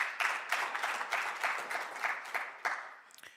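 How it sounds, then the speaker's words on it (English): A seminar audience applauds warmly, with steady clapping from many hands that holds for a few seconds before thinning out at the end. "A round of applause again, please."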